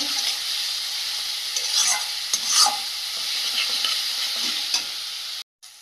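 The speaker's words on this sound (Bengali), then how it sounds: "পেঁয়াজের জলে মশলাটা বেশ ভালোভাবে কষিয়ে নেব।" Spice paste sautéed in onion water in a pan, a loud steady sizzle with scraping strokes of a spatula stirring it close by, ending in a sudden brief cutoff.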